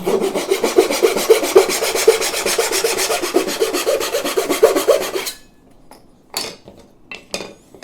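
Hand saw rasping through soft wood in a small miter box, rapid regular back-and-forth strokes loud and close for about five seconds, then a few light knocks and handling sounds.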